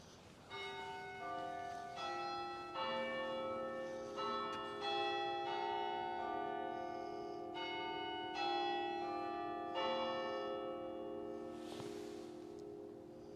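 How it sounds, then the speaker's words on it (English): Durham Cathedral's bells ringing in the evening, heard from inside Durham Prison, a steady peal of overlapping tolls with long ringing tones layered over each other, continuous and fairly clear, with no talking. "I used to like listening to these bells late at night"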